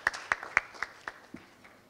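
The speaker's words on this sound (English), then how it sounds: "Could you please big round of applause for our second team" An audience claps for a competing team at a health-tech event, with a sparse scattering of sharp, separate handclaps that thin out over a couple of seconds.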